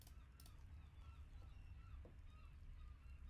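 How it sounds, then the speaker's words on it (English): Seagull calling outdoors over a steady low background hum, its cries faint and intermittent with a brief brighter squawk near the middle. "the seagull's being so damn noisy"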